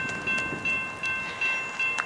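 A westbound intermodal freight train rolls past with a steady rumble and rhythmic clacking of wheels over rail joints, loud and close, with no voices.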